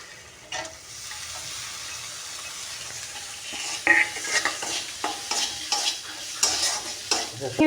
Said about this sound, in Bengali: আমি এখন তার মধ্যে দিয়ে দিব চিংড়ি মাছগুলো রেখেছিলাম ধুয়ে, সেই চিংড়ি মাছগুলো আমি দিয়ে দিব।